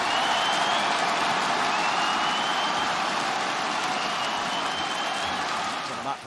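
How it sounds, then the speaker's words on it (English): A large arena crowd cheers and applauds at a Valorant esports grand final, Fnatic versus Loud, a loud sustained roar with clapping that holds steady and fades slightly at the end; no clear talk over it. "The bullets go wide and the crowd goes wild."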